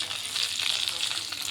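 Cumin, dry red chillies and mustard seeds sizzle and crackle in hot oil as a tempering for a gongura chutney. The frying hiss is close and continuous, with small pops throughout.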